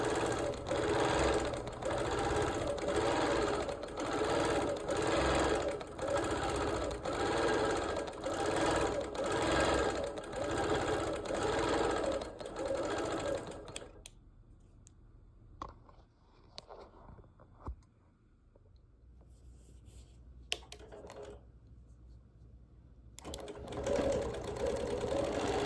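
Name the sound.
sewing machine stitching a quilt meander design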